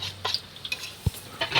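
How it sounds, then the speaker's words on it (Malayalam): A spoon stirs blended dates into a dry fruit ladoo mixture in a pan, giving soft scraping strokes, light metallic clinks and one dull knock against the pan, with no talking. "അത് നല്ല രീതിയിലൊന്ന് ഇളക്കി കൊടുക്കാം."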